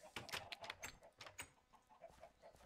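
Chickens cluck in a blocky farm-building video game, a run of short rapid clucks close by and fairly quiet, with brief gaps between bursts.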